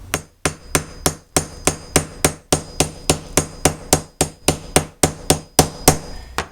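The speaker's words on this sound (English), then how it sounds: "So I'm just going to kind of work that a little bit with the hammer and really get that rotated in there" A hammer drives a metal snap into leather with about twenty sharp, loud strikes close by, landing in a quick, even rhythm with brief gaps between them.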